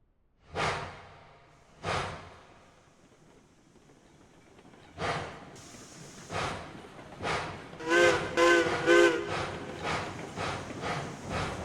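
A locomotive in the train game Railroads Online chuffs in heavy, widely spaced exhaust bursts that quicken into a faster rhythmic beat, with a brief whistle-like tone mixed in near the end.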